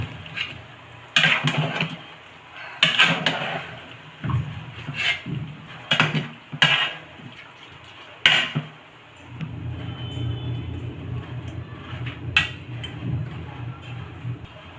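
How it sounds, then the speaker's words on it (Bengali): Meat is stirred in a pot in a Sylheti home kitchen, spoon scraping and clinking against the metal in scattered bursts, then a lid clanks down over a low steady simmer. "আমি এখন কিছুটা নেড়ে দিচ্ছি দিয়ে তারপরে ঢেকে দেবো"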